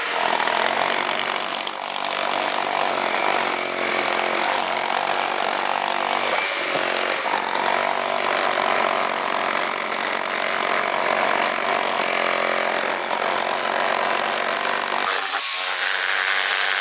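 Parkside and Bosch demolition hammers pounding concrete blocks, a loud, continuous rapid hammering roar that runs nearly unbroken throughout and drops away briefly near the end.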